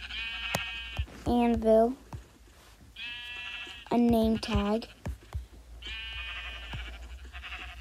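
Repeated wavering bleats from Minecraft sheep, three short bursts spread across the clip, with a person talking in between and around them.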